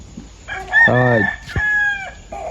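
A rooster crows once, a loud, close, drawn-out call with several rising and falling segments, followed by a brief second cry.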